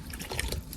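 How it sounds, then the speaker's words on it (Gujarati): Water poured onto a drooping potted plant makes a brief soft trickle and dribble, close and fairly quiet. "તો આમાં થોડુંક પાણી પીવડાવી દઈએ"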